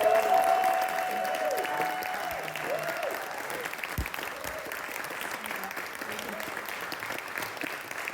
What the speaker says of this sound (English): So can we just give a massive round of applause?